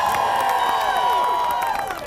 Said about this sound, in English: Clap it up, HBCU.